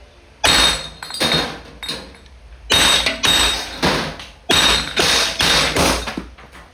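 An Umarex T4E TP50 .50 caliber airgun fires rubber balls in three loud, sharp cracks spaced a couple of seconds apart, each followed by a short ringing decay, with no talk.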